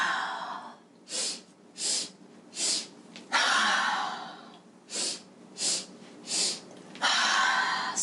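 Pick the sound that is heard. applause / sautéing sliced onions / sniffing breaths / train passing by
sniffing breaths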